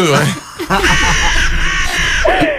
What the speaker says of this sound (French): Il y a les corneilles qui passent là